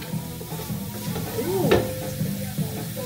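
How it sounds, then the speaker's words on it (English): Bacon sizzles and crackles in a pan while being stirred, a steady frying hiss with scraping and a sharper clatter partway through, close and moderately loud, no talking. "Keep stirring. Get that bacon."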